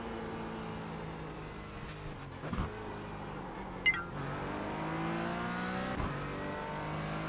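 A race car in iRacing brakes hard and downshifts to second gear into Turn 4, its engine note stepping through falling then rising harmonic sweeps, with a few sharp blips and a steady loud drone throughout; no talking.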